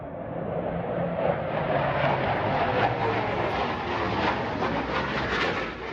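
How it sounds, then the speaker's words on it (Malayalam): Air force plane races past at high speed near a hilltop fort climb, a loud sustained roaring rumble that swells and holds steadily over several seconds, with no talk over it. "ഞങ്ങൾ നിൽക്കുന്നതിന് സമാന്തരമായി എയർഫോഴ്സിന്റെ ഒരു വിമാനം അതിവേഗം പറന്നുപോകുന്നു"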